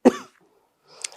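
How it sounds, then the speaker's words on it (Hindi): A woman coughs once, a short sharp burst that is loud and close, followed by a pause and then a brief, fainter throat-clearing rasp. "दिल्ली में इतना एयर पोल्यूशन है ना कि बार बार खांसी इतनी आ रही"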